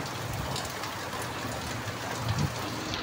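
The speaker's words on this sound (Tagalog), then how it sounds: "Malakas din nga pala ang ulan, mga idol." Heavy afternoon rain pouring down in a street, a dense continuous hiss of drops on surfaces, steady and fairly loud with no talk.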